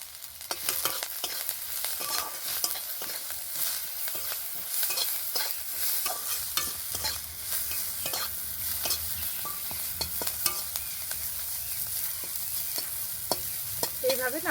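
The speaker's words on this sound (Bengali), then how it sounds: "এবারে সব কিছু আবারও ভালো করে একটু নেড়ে চেড়ে নরম করে নেব।" Onions and ginger frying in a pan with a steady, close hiss, broken by repeated scraping strokes of a spoon stirring them through.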